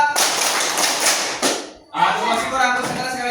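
A classroom group claps in a counted rhythm, producing a loud dense wash of many hands for about a second and a half, after which a voice speaks.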